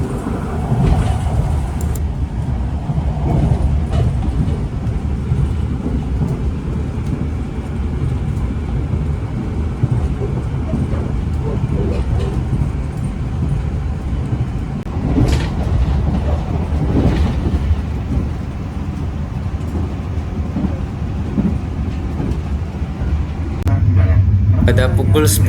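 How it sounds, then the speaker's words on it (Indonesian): Bogowonto passenger train rolling through a green tunnel near Purwokerto, heard from inside the carriage as a steady low rumble of wheels on rails, continuous throughout with occasional faint clicks and squeaks. "kereta api Bogowonto yang saya naiki melintas di terowongan hijau"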